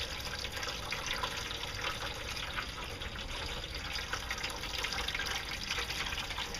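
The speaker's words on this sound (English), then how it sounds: "The more you restrict it, the slower the water flow, but it works good for my device right here." An above-ground pool pump pushes flowing water through a gold prospecting setup, giving a steady, continuous rushing and splashing that stays level throughout with no voices.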